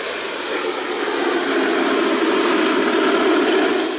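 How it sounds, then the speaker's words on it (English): A loud, steady mechanical roar fills the space, a constant broadband drone of machinery running without pause. "You couldn't hear anything over the sound of this machine running."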